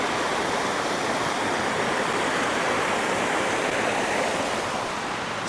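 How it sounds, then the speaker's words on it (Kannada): Bangara Kusuma waterfall crashes in an unbroken, full-bodied hiss and roar, heard up close and steady throughout. "ನೋಡಿ ಫಾಲ್ಸ್ ಹೆಂಗಿದೆ."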